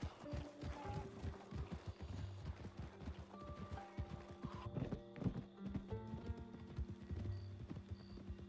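Horse hooves clip-clop steadily at a walking pace in Red Dead Redemption 2, with an occasional whinny and soft game ambience around them.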